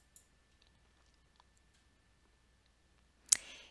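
A single crisp computer mouse click lands near the end after an almost silent pause, with a faint tick just before it.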